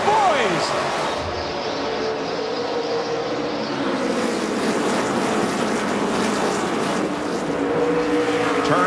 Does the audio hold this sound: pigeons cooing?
no